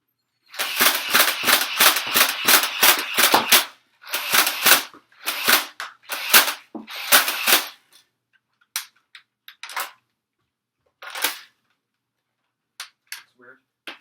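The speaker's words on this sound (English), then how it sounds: "I'll shoot some AccuStrike darts as well" A Nerf Stampede ECS blaster fires AccuStrike foam darts in a rapid string of sharp, loud clicks and thumps, followed by a few more scattered shots and clicks trailing off after a pause.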